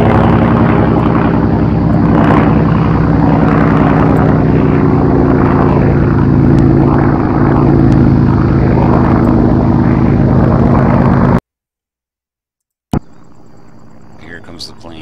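A plane in the military game Arma 3 drones loudly and steadily with a propeller-like roar for about eleven seconds, then cuts to silence before quieter game sounds resume.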